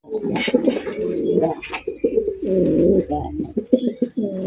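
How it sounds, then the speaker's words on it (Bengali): A pair of fancy rasgolla pigeons coo close by in throaty, repeated rolling phrases, with a few brief higher chirps mixed in. "আরো এক জোড়া কালারিং রাসগোল্লা কবুতর দেখেন"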